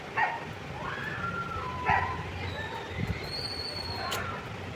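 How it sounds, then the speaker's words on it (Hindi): A street dog barks a few times near a home in the evening, short yips and woofs spaced over several seconds against a background of distant chatter and household noise. "वहाँ पे कुत्ता सो रहा था, वो भौंकने लग गया"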